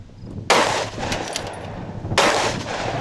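Machine gun fire at an outdoor machine gun shoot in Red Wing, loud sustained bursts starting abruptly, a second burst following after a short gap, ringing across the range.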